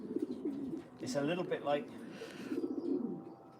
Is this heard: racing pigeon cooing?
yes